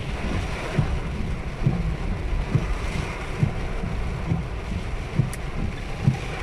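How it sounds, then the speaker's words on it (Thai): Strong wind gusting during a heavy afternoon rainstorm in Surin town, Thailand: a steady loud roar of wind and rain buffeting the microphone, with faint rhythmic thumps underneath and no talking. "ลมก็ค่อนข้างแรงด้วย"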